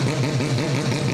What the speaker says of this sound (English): that's the sound of that rotary engine